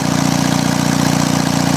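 An Onan diesel generator runs close by at a loud, steady idle, with a low throbbing drone and a constant even pulse and no change in pitch.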